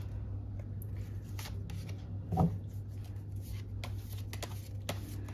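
A deck of tarot cards shuffled by hand, producing soft rubbing, riffling rustles with one brief louder flutter midway, close and fairly quiet against a steady low hum.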